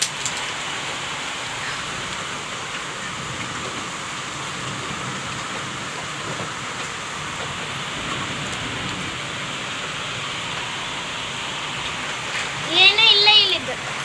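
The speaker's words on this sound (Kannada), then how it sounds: "ಬಂದಾಗ್ಬಿಟ್ಟು ನೋಡ್ರಿ ಮಳೆ" Steady rain pouring down on a damp, earthy day, a broad even hiss throughout, with a brief louder disturbance near the end and no voice heard.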